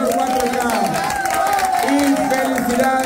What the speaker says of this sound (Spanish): Fuerte aplauso para todos los invitados